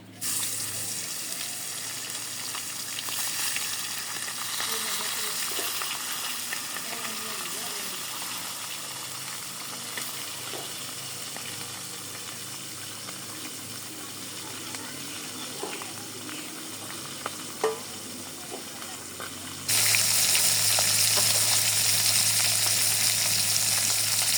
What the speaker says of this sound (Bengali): মাছের মাথা দিয়ে দিই